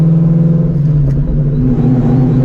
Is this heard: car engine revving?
yes